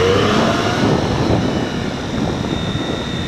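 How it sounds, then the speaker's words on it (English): A Triumph Street Triple motorcycle accelerates with a steady, loud engine roar and a high intake whine rising above it, heard up close while riding. "whenever I hear the whine of the intake, wow, it it tips the scale in the favor of the Street Triple as soon as I accelerate a little bit."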